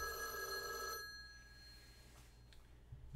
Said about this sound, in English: So now I have a phone ring that repeats and repeats.